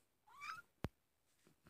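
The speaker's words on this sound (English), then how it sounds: "Go away, cat." A house cat lets out one soft, rising meow nearby in a quiet room, followed by a sharp click and faint rustling.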